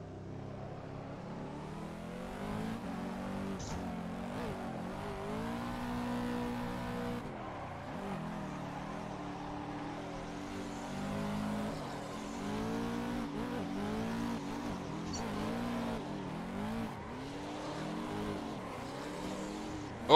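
Race cars drift in the Assetto Corsa racing game, engines revving and wailing up and down continuously with tyre squeal as several cars run together, sustained and fairly quiet.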